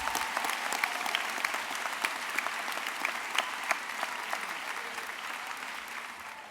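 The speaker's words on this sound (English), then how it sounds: "Let's have one last round of applause for all 4 of these students." Sustained applause from a graduation audience in a large hall, a fairly soft, even patter of many hands with a few sharper individual claps standing out.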